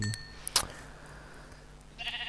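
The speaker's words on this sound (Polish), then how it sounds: "usłyszałem barana" A sheep in the video game Minecraft gives a short bleat, preceded by a couple of faint clicks and followed by a quiet stretch, then a brief soft noise near the end.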